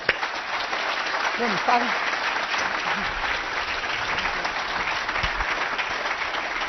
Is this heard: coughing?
no